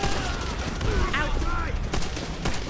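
Gunfire from the Call of Duty: World at War video game, rapid shots rattling steadily and fairly loud throughout, with a voice speaking over the battle.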